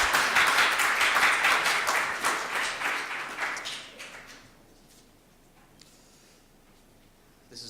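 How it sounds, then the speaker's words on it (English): An audience at a tech meet-up claps for a few seconds, a dense burst of applause that thins out and fades to a quiet room with scattered small noises. "So another round of applause"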